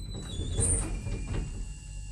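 Doors of a Pickerings lift at a hotel sliding shut, a low rumbling slide with a faint mechanical whine, steady and close, over a continuous low hum of the lift car.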